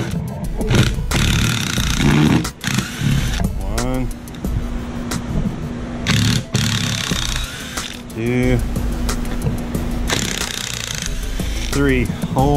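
Power tool driving screws down through panels into a floor while building a drum isolation booth: loud, close bursts of whirring and ratcheting clatter that start and stop over a steady noisy background.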